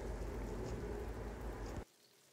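Tomatoes and sauce, sprinkled with thyme and red pepper flakes, cook in a covered pan with a dense, steady sizzle and bubbling that cuts off abruptly.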